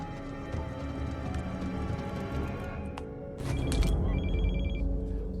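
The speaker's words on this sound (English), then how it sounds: "A phone rang." A telephone rings aboard an airliner in repeated electronic trills over the steady low drone of the engines, the ringing continuing in short bursts.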